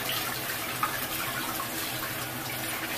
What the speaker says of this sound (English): I'm gonna wash my hands, and then I'm gonna, of course, wash my face